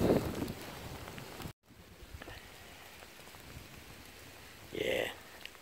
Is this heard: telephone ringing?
no